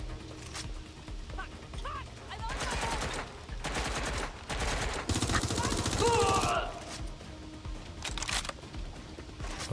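Gunfire in the video game Watch Dogs Legion comes in several bursts of rapid shots between quieter gaps, moderately loud, with a voice speaking at times.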